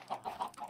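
Chickens clucking in Minecraft, a short run of three or four quick, soft clucks in a steady rhythm at low volume.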